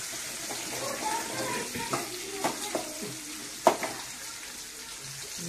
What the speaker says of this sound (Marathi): चांगलं तेलात परतायचं